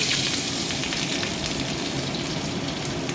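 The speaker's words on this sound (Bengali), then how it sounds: "কড়াইতে রসুনটাও ছেড়ে দিলাম" Loud, continuous sizzling of garlic frying in hot oil in a wok, a dense, even crackle with no speech.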